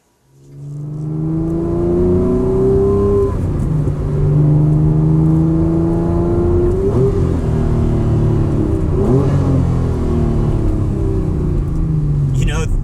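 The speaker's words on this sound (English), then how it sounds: "let's take this NSX-R outside for a quick spin" A Honda NSX-R sports car engine hums steadily and rises through several revving climbs as it drives, a loud continuous drone captured from inside or close by.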